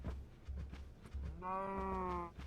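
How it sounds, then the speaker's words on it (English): A Minecraft cow lets out one drawn-out, tonal moo lasting about a second, preceded by soft low thumps of movement, with no talking over it. "That cow is running around crazily."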